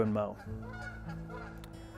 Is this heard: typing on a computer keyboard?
no